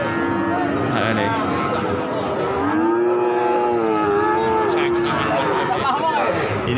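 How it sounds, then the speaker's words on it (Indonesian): Limousin and PO cattle moo in long, drawn-out lowing calls at a busy morning livestock market in Blora, Central Java, over a steady background of crowd chatter and people talking. "Dan lainnya adalah sapi-sapi limusin."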